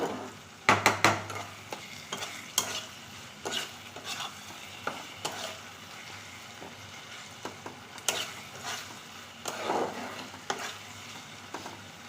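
Sweet-spicy cabbage with sugar being stirred in a hot pan, with steady spatula scraping and a soft sizzle throughout, plus a burst of clattering near the start.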